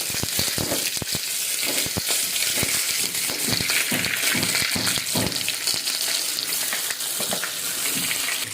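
Stuffed brinjal fries in hot oil with mustard seeds, cumin and curry leaves, giving a steady, close, loud sizzle and crackle throughout with occasional stirring scrapes.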